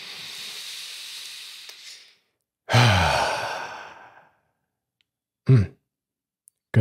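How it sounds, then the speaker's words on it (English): A slow, deep breath in and out during a guided breathing exercise: a long airy inhale, then a voiced, sighing exhale, followed after a pause by a shorter breath, close and clear with no talk. "Let's take a deep breath in."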